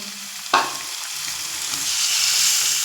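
Salted chicken pieces hitting a hot pan with spices, a sharp burst of sizzling at the start that settles into a steady loud fry with faint stirring.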